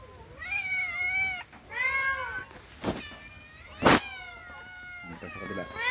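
Several hungry cats meow repeatedly, with fairly close, drawn-out rising and falling cries overlapping one another, while people talk quietly in the background.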